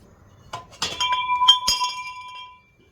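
A small hand bell rings in several quick strikes with bright, clear sustained tones, close and fairly loud, then fades out over a couple of seconds with no talking.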